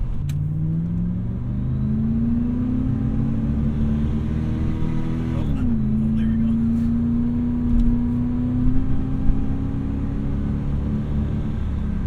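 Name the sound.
Oldsmobile Cutlass Supreme 442 revving with slipping transmission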